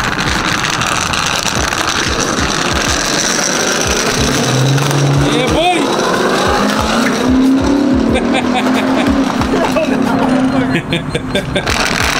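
A lifted 2022 Ford F150 pickup on large wheels drifts with a continuous loud engine roar and rising tire squeal under people talking, the squeal strengthening midway and holding steadily toward the end.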